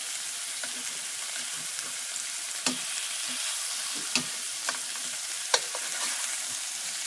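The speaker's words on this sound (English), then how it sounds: "I brown my Braciole. You want to brown each side of it real nice." Braciole browning in a frying pan: a steady hiss of sizzling fat fills the whole stretch, broken by a few louder pops and spatters.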